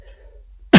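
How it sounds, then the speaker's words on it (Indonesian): A single short, sharp cough, close and loud, right at the end after near silence with a faint low hum. "Izinkan saya batuk sebentar."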